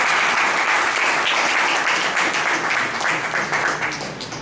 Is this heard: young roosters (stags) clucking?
no